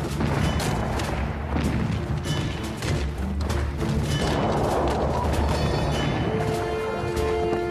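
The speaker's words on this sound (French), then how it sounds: "Plus de 400 canons grondent sur le champ de bataille." Cannons firing across a battlefield at the Battle of Sedan in 1870, dense repeated booms and thuds crowding one another in a continuous loud barrage throughout, with no talking.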